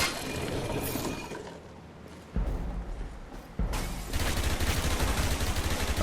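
AK assault rifle firing in the third-person shooter Dark Sector, mechanical clatter giving way to loud sustained automatic bursts that grow denser toward the end, close and continuous with no talk.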